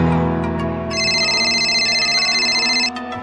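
A telephone ringtone in a bright, repeating electronic pattern, loud and close over a sustained tonal backdrop, lasting about two seconds.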